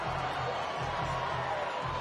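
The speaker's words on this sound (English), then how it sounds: "Oh, crowd are loving it." A stadium crowd at a New Zealand versus USA rugby sevens pool game in Los Angeles sends up a steady, dense roar of cheering that holds without sharp peaks.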